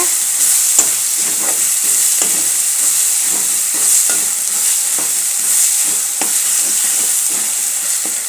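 Ginger garlic paste frying in a home kitchen pan, a steady close sizzle with occasional sharper crackles and the scrape of stirring running throughout, no voices present.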